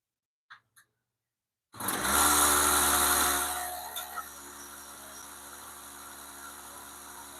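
A chainsaw engine suddenly roars to life after a couple of faint clicks, starting loud and high-revving, then settling into a steady, slightly lower running drone in a workshop.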